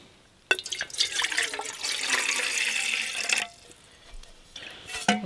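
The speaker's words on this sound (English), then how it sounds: "I would have put more water in than that." Water pours into a container at a spring campsite, a steady splashing trickle lasting a few seconds before stopping abruptly, followed by faint handling noises.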